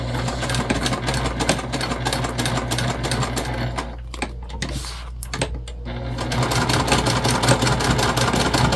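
A sewing machine runs steadily while stitching a travel sling bag, its rapid mechanical whir close and loud, briefly slowing and thinning out midway before resuming at full pace, with no talking.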